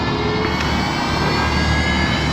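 The electric motor of a Losi Promoto-SM RC motorcycle spins up with a loud, dense, whining roar that stays steady and close for the whole stretch, with no voices.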